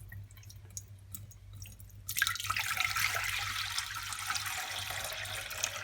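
Water poured into a cooking pot for Tibetan chicken thukpa noodle soup: quiet drips and clatter at first, then a steady splashing pour starts about two seconds in and continues to the end, fairly close.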